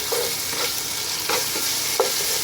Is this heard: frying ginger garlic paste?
yes